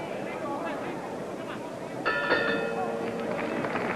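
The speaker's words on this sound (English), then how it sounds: "that's the bell for round 9" A boxing ring bell ends round 9 of the 1966 Eddie Cotton vs Jose Torres title fight in Las Vegas, a few clear clangs ringing out over steady crowd noise.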